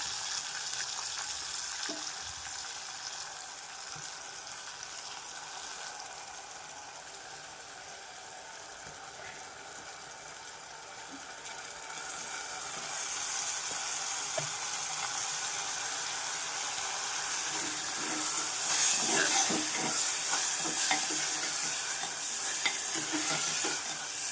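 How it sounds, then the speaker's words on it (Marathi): Rinsed barnyard millet (bhagar) fries and gets stirred in a pan for khichdi, giving a steady soft sizzle with scraping stir strokes that grow a little louder partway through. "याला दोन मिनटं फ्राय करणार आहे आपण"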